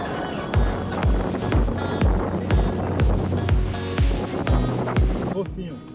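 A private motorboat speeds over the sea off Morro de São Paulo, Brazil. The hull slams the waves in regular heavy thumps about twice a second, under loud rushing wind and engine noise.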